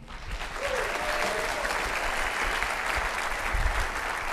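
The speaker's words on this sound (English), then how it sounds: "Ladies and gentlemen, can I get a round of applause for Mr. Brent Gleason?" A conference audience at LIFTx 2018 in MacDill gives a sustained round of applause for a speaker being introduced, a dense steady wash of clapping from many hands filling the room without pause.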